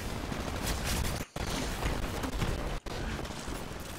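Gunfire in the Titanfall video game forms a continuous, noisy barrage of shots at moderate level, broken by two brief sharp dropouts.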